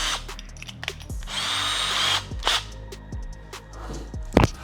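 A power drill whirs in short bursts, with one longer steady run as the bit bores slowly into wood without a pilot hole, plus a few knocks and clunks in between.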